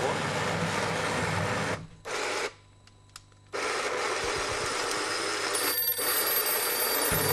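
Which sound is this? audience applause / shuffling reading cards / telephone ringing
telephone ringing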